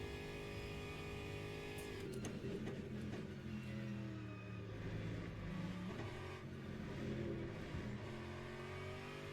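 An Aston Martin race car drives at Spa in the Le Mans Ultimate video game, its engine droning steadily and faintly with gradual pitch rises and falls as it accelerates and shifts, and no talk over it.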